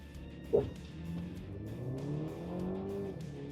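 A 2026 Mercedes GLC luxury SUV launches from a standstill, a sharp knock followed by a muffled, rising engine note that climbs steadily as it accelerates, fairly quiet as from inside the cabin.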